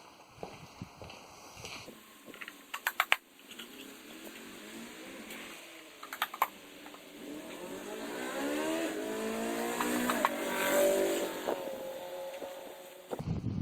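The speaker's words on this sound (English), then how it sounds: "That guy that just drove by, I think he needs a shop." A car drives by outside a workshop where a 1997 Chevy 1500 with a 5.7 engine is being serviced, its engine noise swelling and shifting pitch as it passes, with a steady high whine and a few sharp clanks underneath.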